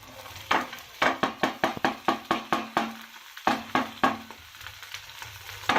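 Eggs with red chili powder and salt are beaten for an omelette, a close run of quick, rhythmic clicking strokes against a bowl, pausing briefly midway before resuming.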